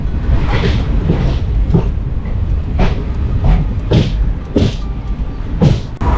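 The Palaruvi Express rumbles loudly and steadily out of Angamaly railway station in Kerala, with a series of regular rhythmic clacks as the carriages roll over the rails, no voices.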